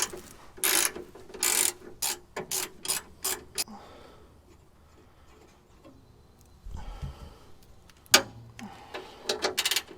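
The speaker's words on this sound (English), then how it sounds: "So this ratcheting wrench may just save my bacon." A ratcheting wrench turns bolts on the bumper of a 1992 Ford F150 truck. Rapid clicking bursts come close and fairly loud, followed by metallic clanks and a sharp knock.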